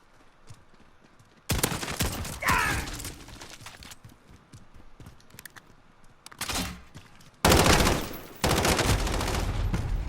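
Gunfire from a flamethrower-style shotgun in Call of Duty Modern Warfare: loud, broad blasts near 1.5, 6.5 and 7.5 seconds with a sustained roaring burst at the end, separated by quieter stretches.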